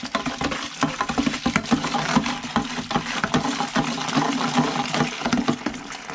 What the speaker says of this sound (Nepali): वासिङ मेसिनमा भरिँदैछ